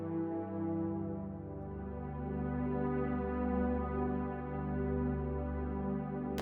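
Quiet, calm ambient background music for a video game in development: layered sustained tones drift slowly and steadily throughout, with no talking.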